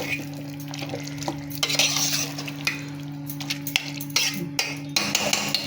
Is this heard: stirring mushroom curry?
yes